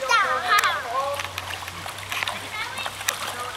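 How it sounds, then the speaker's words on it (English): A child stomps and splashes through shallow creek water, giving a run of irregular wet slaps and sloshes close by, while an adult talks over them with a voice heard in the opening moments. "Stomp that water. Stomp that water. Teach it a lesson."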